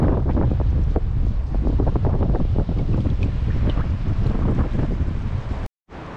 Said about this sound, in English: that wind is just getting ridiculous